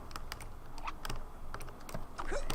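Typing on a computer keyboard, quick irregular clicks and clacks with heavier spacebar thumps mixed in, close and clear in a quiet room with faint background hum.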